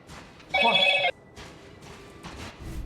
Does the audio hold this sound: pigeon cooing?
no